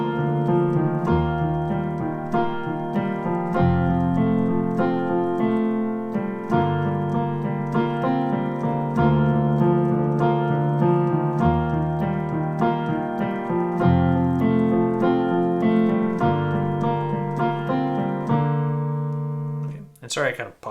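Piano playing the verse of a worship song, steady repeated chords over a low bass line in a slow even rhythm, close and full, ending with a short pause.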